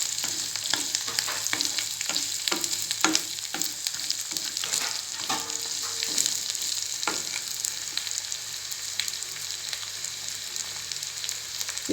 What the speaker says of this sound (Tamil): இந்த ஸ்டேஜில் நான் கோகோனட்டும் புளியும் ஆட் பண்ணிக்கிறேன். தேங்காயும் நல்லா கொஞ்சம் லைட்டாக வதங்கினா போதும்